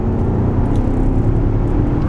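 A VW Touareg V8 diesel rumbles with a deep, steady low drone throughout, loud and close, with no clear revving changes over the short stretch.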